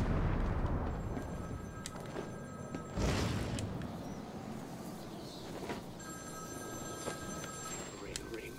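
A payphone rings in Batman: Arkham City, with two bursts of electronic trilling ringing over a busy game backdrop of bangs and thuds, and someone talking throughout.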